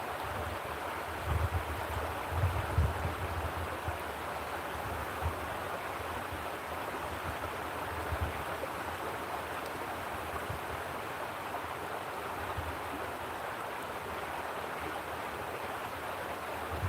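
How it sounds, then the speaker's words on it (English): A creek flows steadily over its bed outdoors, a continuous, even wash of running water with a few low splashing bumps near the start and no voices. "Just listening to the creek flow,"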